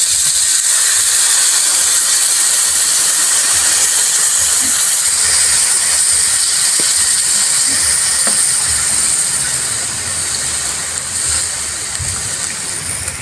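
Coconut wine (tuba) hits a hot pan of browning pork adobo and sizzles in a loud, steady hiss that holds for the whole stretch, close up.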